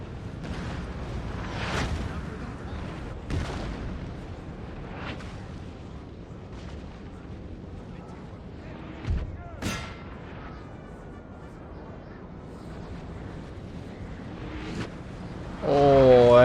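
Cannon fire strikes grenadier troops in a Napoleon: Total War battle: repeated deep booms and rumbling blasts roll over a steady roaring battlefield din, some near and sharp, others more distant.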